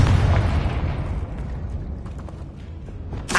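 A Confringo fire spell detonates in Hogwarts Legacy with a deep, heavy boom that rumbles and slowly fades, with a few scattered crackles and a sharp burst at the end.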